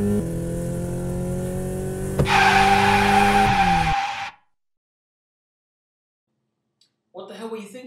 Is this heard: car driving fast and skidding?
yes